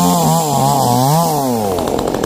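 Chainsaw cutting down trees, including a durian tree, on a rural property; a loud, close engine whine rising and dipping in pitch as the blade bites into wood, continuous throughout.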